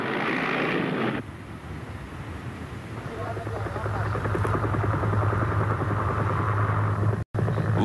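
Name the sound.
Soviet Mi-8 helicopter flying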